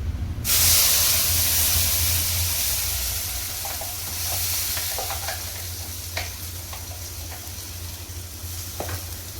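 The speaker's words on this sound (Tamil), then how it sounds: "இப்போ இந்த மசாலா வந்து நம்ம பச்சை வாடை போக நம்ம வதக்கணும்" Wet masala poured into hot oil with fried cinnamon and star anise for a goat intestine gravy bursts into a loud, close hissing sizzle, settling into steady frying with occasional spatula scrapes.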